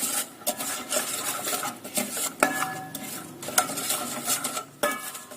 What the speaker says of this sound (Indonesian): Sambil terus kita aduk.